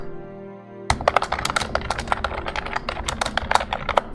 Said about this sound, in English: how close my keyboard is to the mic